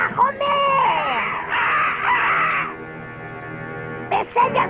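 A cartoon bird caws in the Smurfs, loud harsh calls repeated in bursts alongside character voices.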